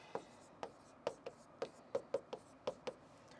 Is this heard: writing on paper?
yes